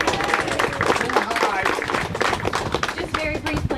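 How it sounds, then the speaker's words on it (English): An audience at a house plaque ceremony on Shackleford Street claps steadily for Miss Cecilia, with dense applause from a crowd throughout and voices talking over it. "You have to applaud for Miss Cecilia."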